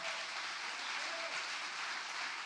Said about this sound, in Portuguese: Quantos podem dar um aplauso ao Senhor?